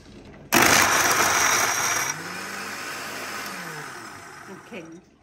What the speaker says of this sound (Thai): เดี๋ยวปั่นไอ้สองอย่างนี้ก่อน